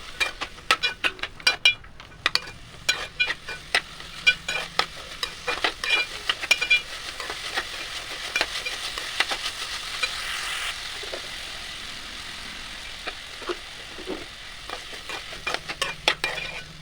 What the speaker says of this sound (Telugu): తర్వాత మనం కట్ చేసి పెట్టుకున్న ఆలు పీసెస్ని యాడ్ చేసుకొని కొంచెం సాల్ట్ వేసి ఒకసారి బాగా కలిపి